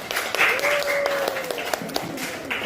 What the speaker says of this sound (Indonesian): Oke, tepuk tangan dong buat temannya.